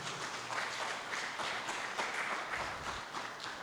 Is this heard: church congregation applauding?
yes